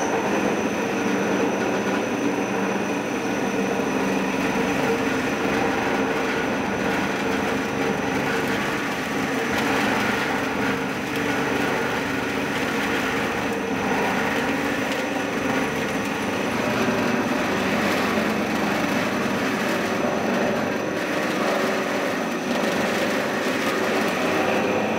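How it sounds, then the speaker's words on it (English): A dedicated factory machine loosens clumped black tea leaves in a Yunnan tea factory, giving a loud, steady mechanical rumble and clatter that runs unbroken throughout. "we'll need to first loosen them with a dedicated machine"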